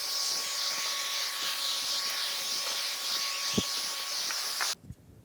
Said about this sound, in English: it cleaned up on the sander quite nice